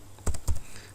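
A few quick keystrokes on a computer keyboard, typed while entering text into a word-processing document; two short clustered bursts of clicks, close and clear, with no talking.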